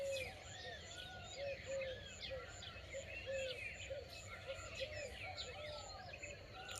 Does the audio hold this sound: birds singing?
yes